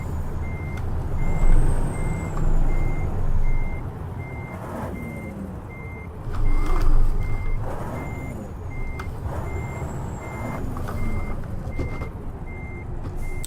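A Ural 6464 military truck in Euro Truck Simulator 2 backs up with a steady, evenly spaced reversing beep over a loud diesel engine rumble, with occasional air-brake hisses.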